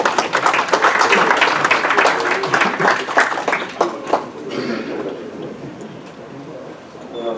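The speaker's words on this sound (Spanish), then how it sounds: "Vamos a recibir con un aplauso al ingeniero Schutzbacher para su presentación." Audience applause greeting an engineer before a conference talk on asphalt pavement evaluation; brisk, dense clapping for about four seconds that tapers into scattered claps and room murmur.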